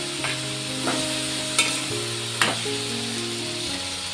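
Peanuts and peas go into a hot pan of frying vegetables for bhogi bhaji, giving a steady close sizzle broken by a few sharp scrapes of stirring.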